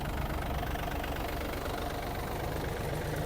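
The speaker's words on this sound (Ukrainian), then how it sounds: "Бачимо, кардан працює і ножі. Все тихо, стабільно." A Yanmar FX-255 Japanese mini tractor runs steadily with its driveshaft and blades turning, giving a constant, even mechanical drone at a quiet, stable level, with no voices.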